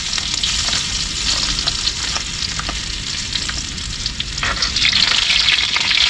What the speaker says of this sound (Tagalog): Ngayon, luto po tayo ng sauce ng ating in-steam. Unahin po natin yung bawang.